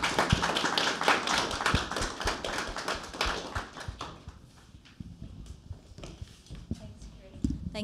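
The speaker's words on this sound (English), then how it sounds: "A round of applause." Applause from a symposium audience for a panel on public and private space, dense clapping at first that thins into scattered claps and murmuring after a few seconds.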